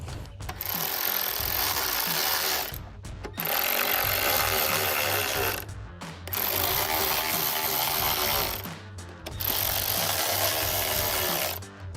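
Bolts being fastened on a Mustang GT rear diffuser with a power tool, four long, loud bursts of whirring separated by short pauses, heard alone without talk.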